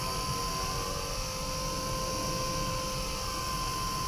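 A Blade SRX200 small RC helicopter hovers close by, its high-pitched motor and rotor whine holding steady and loud throughout with no talk.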